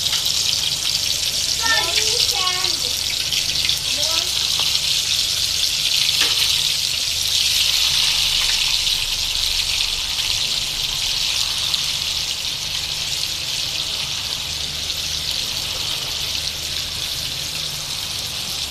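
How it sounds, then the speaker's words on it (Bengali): Meat pieces for kabab fry in hot oil with a steady, loud sizzle that holds for the whole stretch, a few brief squeaks and clatters near the start. "এখন আমি মাংস ভেজে নিব"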